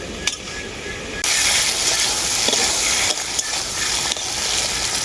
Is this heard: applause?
no